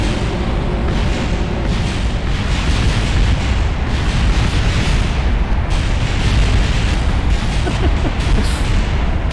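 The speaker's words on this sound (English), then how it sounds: "Got some explosions." Rocket explosions in the video game Kerbal Space Program roar as a loud, continuous, rumbling blast that lasts the whole stretch, dense and booming without pause.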